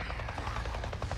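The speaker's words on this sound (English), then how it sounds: "I just saw a goddamn chopper" A helicopter in the zombie survival game Days Gone, its rotor thumping in quick, regular pulses with a heavy engine rumble, loud and close, alone without talk.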